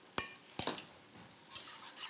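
A spoon stirs cornstarch béchamel in a hot saucepan, giving a few sharp scraping clinks against the pan with soft sizzling in between, close by and without voices.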